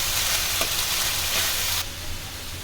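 Rice fries in a pot for khichuri, a dense, bright sizzling hiss filling most of the clip that drops off sharply near the end, leaving a quieter background, close and loud.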